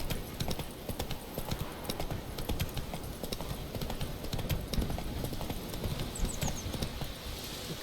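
Roach, Geralt's horse in The Witcher 3 video game, trots along with steady, fairly quiet clip-clopping hooves over a continuous outdoor ambience, the hoofbeats alone without talk.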